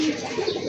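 A pair of Giribaz pigeons cooing, one short low throaty coo heard up close.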